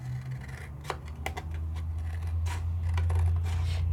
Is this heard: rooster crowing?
no